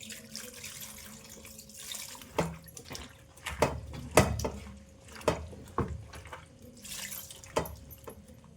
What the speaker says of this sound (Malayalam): വെള്ളം ഒഴിക്കാം